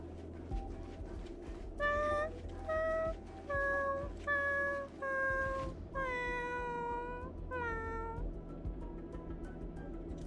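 A cat in the video game Honkai Star Rail meows about six times in a row, drawn-out plaintive cries spaced a second or so apart over a low, steady game background.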